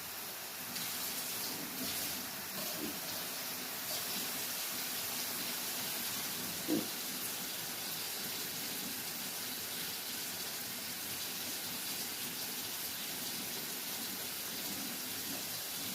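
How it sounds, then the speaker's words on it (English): About a third of a cup of water poured into a cooking pan while preparing a HelloFresh cheesy smothered mushroom chicken meal, a steady soft hiss running for the whole stretch with no talking. "Then throw in this water."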